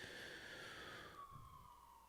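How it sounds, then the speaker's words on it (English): A police siren wails down a residential street, its falling tone sliding steadily lower as the vehicle passes, steady and fairly loud against a low background rumble. "there's a siren like literally right down my street"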